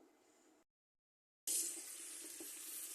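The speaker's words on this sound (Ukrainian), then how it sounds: "Мию під проточною водою стакан рису." Running tap water pours over a glass of rice being rinsed, a steady broadband splash and trickle that starts briefly, stops, then resumes louder and continuous.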